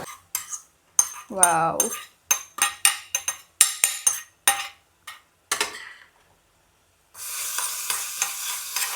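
A spoon stirring fried ingredients into carrot halva in a pan, with rapid scraping and clinking strokes in a steady rhythm, a brief exclamation from a voice, then a soft sizzle.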